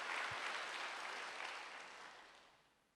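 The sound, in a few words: congregation applauding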